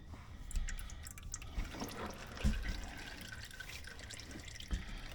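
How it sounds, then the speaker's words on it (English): Engine oil draining from the sump of a Mazda CX-5 (KF series) into a pan, a faint steady trickle and patter of liquid with occasional soft drips, low and close, no talking. "Let it drain out nicely."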